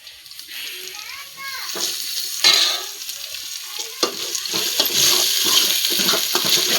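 Potatoes and mutton curry masala are sautéed and stirred in a pan, with a loud, steady sizzle and sharp scrapes of a utensil at intervals, close and without talking.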